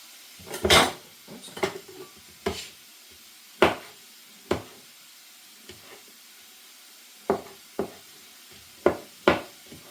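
A knife cuts a small handful of mushrooms on a board in a home kitchen, giving about a dozen sharp, irregular taps and thuds at close range, with quiet pauses between strokes and no talking.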